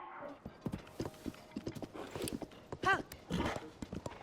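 Horse hooves clip-clop steadily in The Legend of Zelda: Tears of the Kingdom, a close, rhythmic patter of hoofbeats with a brief voice-like call partway through.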